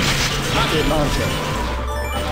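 Rocket launcher fire in the arcade game Metal Slug 6 bursts in loud, crunching, crashing explosions that fade out near the end, with a voice speaking over the game sounds.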